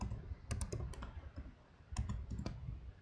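Quick bursts of keystrokes on a computer keyboard as a password is typed, with clustered clicks near the start and another short run about two seconds in, close and fairly quiet.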